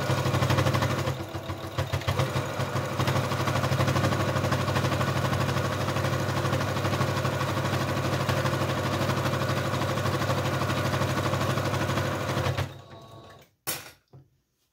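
A sewing machine stitching the side seams of a fleece book sleeve, a steady, loud, close mechanical whir running continuously for about twelve seconds, then stopping, followed by a few brief clicks and handling sounds.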